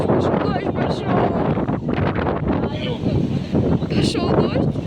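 Storm wind gusting hard against the microphone, steady rushing roar with buffeting bursts throughout, up close and loud, with a voice talking over it.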